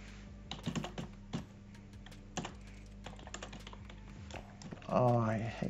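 Typing on a computer keyboard: uneven bursts of close key clicks and clacks, with a voice speaking over the final second.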